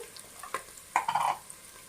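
Three slit green chilies drop into hot oil in a frying pan for crab curry, giving short sizzling bursts and a stronger crackling sizzle midway, with light stirring and no talking.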